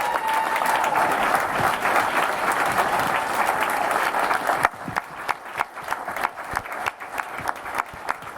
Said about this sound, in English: And ladies and gentlemen, if we can please give a big round of applause for our Volunteer and Caregiver of the Year for 2025, Laura Butler, everybody.